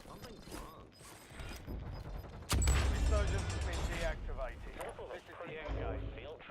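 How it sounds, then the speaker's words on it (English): Magazine swap in Call of Duty Warzone, a run of mechanical clicks and ratcheting clacks mixed with game effects and a sudden louder burst midway, with a voice talking over it throughout. "Changing mags."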